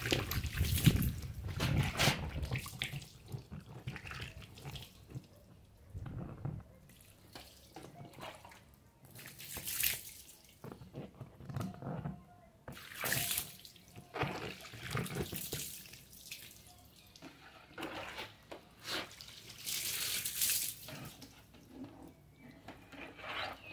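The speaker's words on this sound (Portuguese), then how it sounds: "Tá saindo água suja, tanto mais não." Water runs from a tap in uneven splashing surges, pausing and restarting several times, with faint knocks and handling noises in between, quiet and close.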